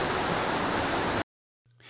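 Cane Creek Cascades waterfall at Fall Creek Falls State Park, a broad steady roar of falling water heard close for about a second before it cuts off abruptly to near silence.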